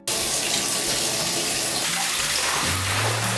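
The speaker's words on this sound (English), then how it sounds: "Let's add some water and find out." Tap water gushes steadily into a bathtub, a loud, continuous splashing rush that starts abruptly and shifts slightly in tone as the tub begins to fill.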